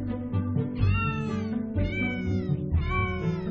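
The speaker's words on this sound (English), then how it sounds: "Cat song." Sung cat meows carry a melody in the video game CEO Cat, several sustained, wavering meow notes in a row, loud and continuous, with no talking.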